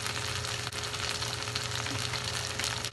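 Soy chunks manchurian fry in a pan with green chilli sauce, soy sauce and vinegar, a loud, steady sizzle close by that continues without any voices.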